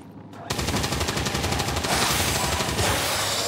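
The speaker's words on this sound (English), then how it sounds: "I suppose I just shoot him to break the bind." Rapid bursts of gunfire in XCOM 2 crack out after a brief quiet start, a dense loud volley of rattling shots running continuously to the end, with faint talk underneath.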